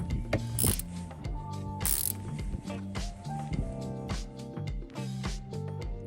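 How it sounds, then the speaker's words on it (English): Ratchet wrench with a 7mm socket tightening down a 034 Motorsport cold air intake on an Audi B9 SQ5, giving repeated quick clicking bursts close to the microphone with no speech. "They're going to be using that same 7mm socket to tighten this down."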